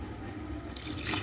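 Water is poured from above onto potted plants in a home flowerpot in the morning, a steady close splashing that grows slightly fuller toward the end, with no voices.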